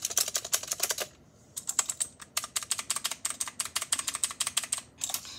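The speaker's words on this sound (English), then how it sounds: "So the first keyboard, we had this really clicky one." Fast, steady typing on a clicky mechanical keyboard with blue switches, each keystroke a sharp, close click in dense bursts, broken by one short pause.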